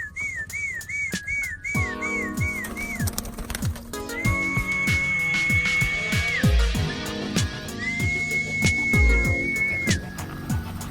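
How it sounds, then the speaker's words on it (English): Someone whistles to call roller pigeons down to the loft: a run of quick warbling trills, then two long, steady held whistles, loud and close over a background of rhythmic clatter and ticking. "Normally we whistle, and the whistle gets a response."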